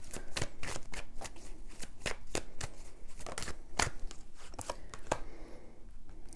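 Rapid crisp riffling of tarot cards being shuffled, a string of sharp flicks in quick irregular succession, close and alone.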